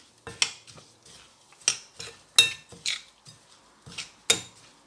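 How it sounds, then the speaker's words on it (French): Cereal bar mixture with almond milk stirred in a bowl, a series of sharp clinking scrapes of a utensil against the bowl at a loose, uneven rhythm, close and clear with no voices. "ne pas hésiter à bien mélanger, histoire que ça fasse une pâte qui est un peu compacte"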